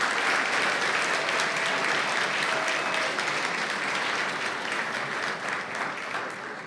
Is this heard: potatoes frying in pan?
no